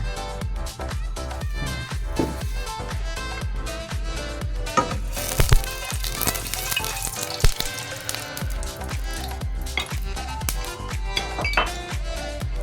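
Chopped ginger sautéing in hot oil in a pan for chicken curry, a steady close sizzle broken by frequent clinks and scrapes of a utensil against the pan.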